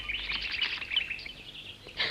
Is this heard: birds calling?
yes